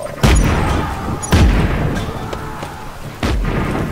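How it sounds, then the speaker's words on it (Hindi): Grenades exploding in Just Cause 3, three loud, booming blasts spaced a second or two apart, each ringing out over a rumbling background. "जल्दी से ग्रेनेड फेंकते हैं"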